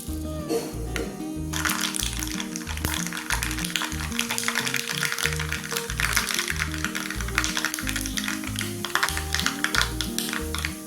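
Mustard seeds fry in hot coconut oil for a Kerala fish peera, making a dense close crackle of rapid pops over a steady sizzle, with a musical melody playing underneath throughout.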